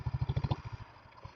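A motorcycle fitted with a freshly installed double core silencer exhaust, ridden at night, gives a rapid run of low, throbbing exhaust pulses that fade into quieter, irregular thumps, heard up close with no talking.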